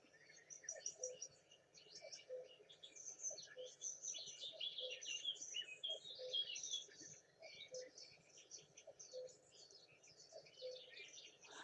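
Birds chirp and sing continuously in a faint, busy chorus of overlapping high tweets, with a soft background hum underneath.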